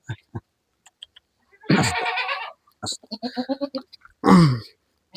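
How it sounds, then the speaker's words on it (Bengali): Goats bleat on a Bangladeshi goat farm raising improved Haryana-breed goats, with several loud, wavering bleats close by, one long call early and another near the end, mixed with short clicks and scattered sounds. "তো চলেন আরো আরো ছাগলগুলো দেখি"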